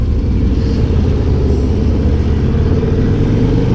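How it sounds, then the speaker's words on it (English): A Harley-Davidson motorcycle engine idles with a loud, steady, close low rumble, the pulsing throb running unbroken with no talk over it. "When you're sitting at idle, you get the thump, thump, thump, potato, potato, potato."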